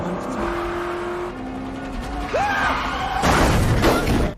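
Car engines rev and roar in an action-movie chase, with a tyre squeal and a louder surge of engine noise toward the end of a brief burst.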